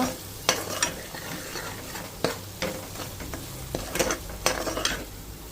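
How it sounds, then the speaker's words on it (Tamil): A spoon scrapes and knocks against a pan, stirring boiled lima beans into sautéed masala in a series of sharp, uneven strokes over a soft, steady sizzle. "வேக வச்ச மொச்சப்பயிரை சேர்த்துக்கலாம் நல்லா மிக்ஸ் பண்ணி விட்டுக்கோங்க"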